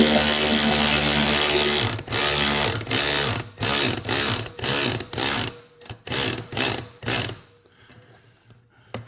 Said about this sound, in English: Now here's the real test for my 1/4 inch ratchet.